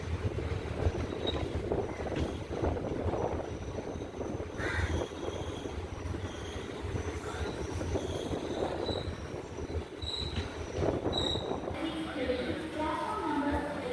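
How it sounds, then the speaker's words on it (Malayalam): A Kayamkulam–Ernakulam passenger train rolls into platform 1 at Alappuzha railway station, a long low rumble with high wheel squeals and brake screeches, while a person talks over it near the platform. "Alappuzha railway station platform number 1 train അങ്ങനെ എത്തിക്കൊണ്ടിരിക്കുകയാണ്"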